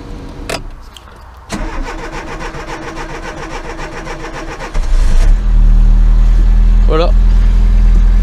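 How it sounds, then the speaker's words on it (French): A 1993 Citroën AX running on E85 cranks for a few seconds with a rapid rhythmic churn, then catches and settles into a loud, steady idle, with a brief voice over the running engine. "t'as vu, elle démarre tout de suite"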